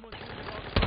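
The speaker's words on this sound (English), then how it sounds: "Just heard a bunch of gunfire." A short burst of rapid gunfire from a game, ending in a louder crack, with faint background sound.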